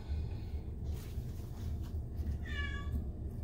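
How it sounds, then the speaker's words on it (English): A cat meows once, clear and fairly close, over a low steady background hum with no one talking. "Sorry about the cat."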